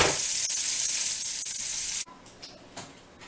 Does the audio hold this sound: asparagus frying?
yes